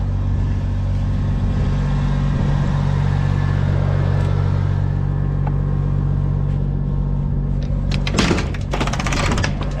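Engine running steadily on a dyno, a loud continuous low rumble with a strong harmonic drone, then a burst of rattling, clattering noise near the end.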